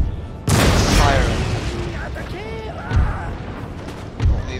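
Musket and cannon volleys fire in the Empire: Total War video game. A heavy booming burst opens the clip and sustains into a rumbling roll, followed by further deep thuds, with a voice speaking over the battle.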